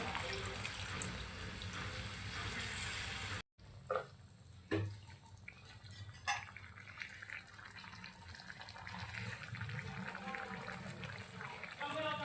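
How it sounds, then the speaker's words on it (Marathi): Water pours and runs into a pan of dhaba-style chicken curry, a steady close splashing stream after a brief cut, with a few clinks and some background talk. "आता यामध्ये आपण पाणी ॲड करूया."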